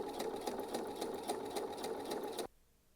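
A sewing machine runs a quick, steady stitching burst through fabric for baby booties, close and mechanical, then stops abruptly near the end, leaving near silence.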